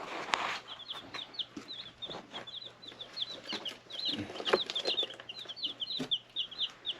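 Chickens cluck and chatter continuously in short overlapping bursts, fairly close, with scattered thumps and rustling in the background.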